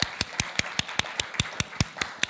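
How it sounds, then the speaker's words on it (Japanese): A church congregation claps in unison, sharp evenly spaced claps at a brisk steady tempo, fairly faint and heard without any talk. "まず主に大きな拍手を捧げましょう"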